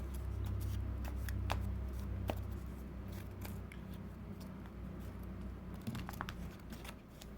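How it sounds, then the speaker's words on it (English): Soft riffling and scattered snapping clicks of a Yu-Gi-Oh card deck being shuffled up close, over a low hum. "So we're gonna shuffle the deck."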